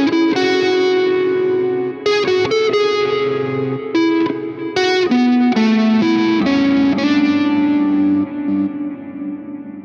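Electric guitar through an ambient amp simulator preset rings out in lush, heavily reverberant chords and notes, washed in echo and shimmer, loud and continuous with no voices.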